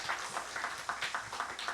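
A church congregation applauds its newly appointed officers during a Sunday service, giving steady, fairly faint clapping from many hands that fills the room without pause.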